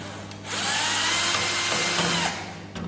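A power screwdriver whirs steadily for about two seconds while backing out screws from the baffle of an SPF5000ES unit during board replacement, close and fairly loud, starting and stopping cleanly.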